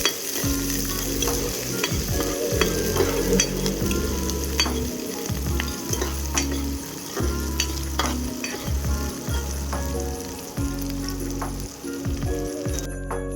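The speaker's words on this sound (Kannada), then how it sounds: "ಹಾಗೆ ಆನಿಯನ್ ಹಾಕಿದ್ಮೇಲೆ ಚೆನ್ನಾಗಿ ಫ್ರೈ ಮಾಡ್ಕೊಳ್ಳೋಣ" Onions fry in oil with cumin, giving a loud, busy sizzle and crackle under repeated stirring and scraping knocks throughout, with no talking.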